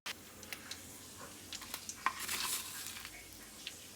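Oil sizzles softly in a pan as something fries, a faint steady hiss broken by small scattered pops and a brief louder crackling burst midway, with light utensil clinks.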